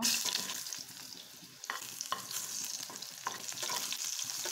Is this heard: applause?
no